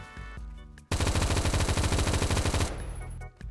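An M4 rifle fires in the Roblox shooter Phantom Forces: a loud, rapid automatic burst lasting nearly two seconds, with a brief ringing tail after the shooting stops.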